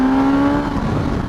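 Stock-exhaust engine of a Suzuki GSX-S1000GT sport-touring motorcycle revving, a steady loud mechanical drone with a strong held tone that shifts slightly partway through, brief and close.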